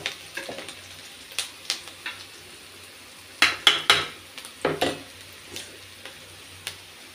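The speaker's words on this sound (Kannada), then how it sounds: "ಸೊಪ್ಪು ಚೆನ್ನಾಗಿ ಫ್ರೈ ಆಗಿದೆ" Leafy greens fry in a pan with ground masala and salt for a village-style basaru, a soft continuous sizzle punctuated by irregular clinks and scrapes of a spoon against the pan, no voices.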